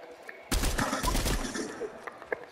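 Gunfire bursts from shooting in Fortnite, a dense volley of rapid shots lasting about a second, then a short pause and a second burst, followed by scattered faint pops in the background.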